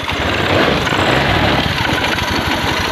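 A Honda Scoopy FI scooter with a weak CKP sensor runs at a steady, close idle after starting, its even mechanical chatter continuing for the whole stretch.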